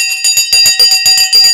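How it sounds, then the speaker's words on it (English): A bell rung on a live trading stream: rapid, loud, close strikes with bright ringing overtones that sustain throughout, struck in quick bursts of about ten hits. "now it's time to ring the bell as well"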